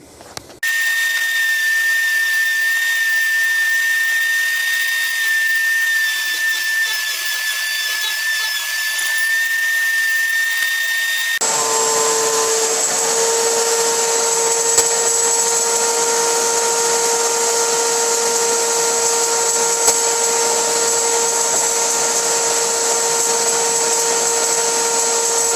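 A router mounted on a table-saw bowl jig cuts spirals into the side of a wooden bowl, giving a loud, continuous machine whine that runs throughout and shifts to a brighter, harsher tone partway through, with no talking.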